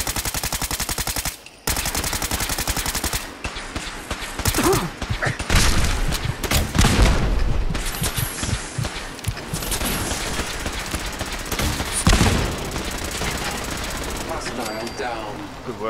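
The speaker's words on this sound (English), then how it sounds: "Gunfire over here." Loud bursts of automatic gunfire and scattered shots in rapid succession in a video game, with thuds and booms and shouting voices mixed throughout.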